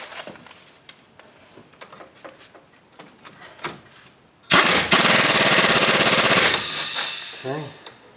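An impact gun rattles in one sustained loud burst of about two seconds, tightening small 14mm front brake bolts on a 2008 Hyundai Elantra, preceded by quieter shop clatter and ending with a short spoken remark.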